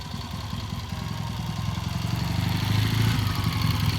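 A 1978 Triumph motorcycle idles close by with a steady, busy mechanical clatter over its low engine rumble, growing slightly louder toward the end, with no voices.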